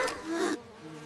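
A loud insect buzz hums steadily for about half a second, then drops away abruptly, leaving a faint low drone.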